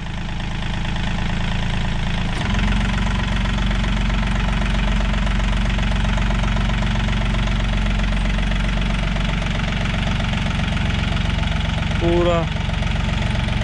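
John Deere 5036 EN tractor engine running in the field, a loud, steady diesel drone with a knocking low rumble throughout, while people talk over it.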